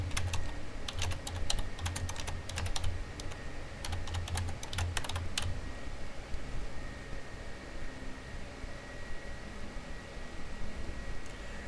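Quick bursts of close computer-keyboard typing while entering a form title in Microsoft Access, clustered clicks for about five seconds, then only a faint steady background hiss and no talking.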